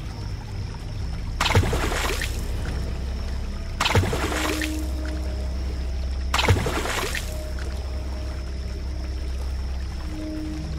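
Three separate splashes of cold river water, each a short rushing pour that fades, evenly spaced over steady stream noise as a woman bathes at midnight.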